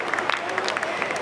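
An audience at a Holi Milan women's honour ceremony claps for an honoree, a short burst of brisk, scattered applause heard fairly close, with voices mixed in beneath it.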